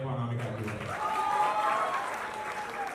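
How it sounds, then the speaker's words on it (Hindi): Loud applause for Anamika at a khadi festival event hosted by a trust, a dense crowd clapping that swells and continues throughout, with a voice speaking over its start. "एक बार जोरदार तालियां for Anamika"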